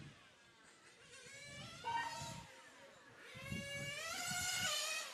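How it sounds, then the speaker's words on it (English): A 1/8th scale RC racing car at a track racing event: a high-pitched nitro engine whine that climbs in pitch, drops at a gear change and climbs again as it passes, moderately distant, with no talking. "When there's just one car, you can finally hear the gear changes."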